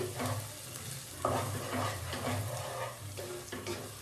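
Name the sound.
egg being stir-fried in a pan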